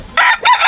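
A 5-month-old derby-size gamecock crows once at close range, a short loud call rising then holding, with a brief break before a second sustained phrase.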